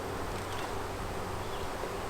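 Honey bees at an open hive being split and requeened give a dense, continuous buzz, close and even throughout, with no voices.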